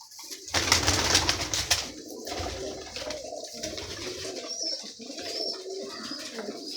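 Pigeons of several fancy breeds crowd a coop, cooing close by in a steady murmur, with a brief burst of wing flutter and scuffling near the start.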